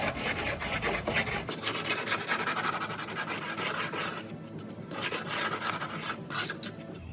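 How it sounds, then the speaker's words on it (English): A block sander cleaning leftover fiberglass flashing off a half-round transom, giving a continuous close rasping scrub made of rapid back-and-forth strokes that briefly ease and resume. "Just going to use a block sander here to clean off any of the leftover flashing of the fiberglass"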